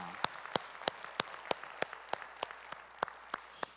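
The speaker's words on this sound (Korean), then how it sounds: "우리 찬양 받으실 주님께 영광의 박수 올리겠습니다." A Korean church congregation claps in slow unison during Sunday worship, about a dozen sharp, evenly spaced claps sounding over a low murmur of room noise.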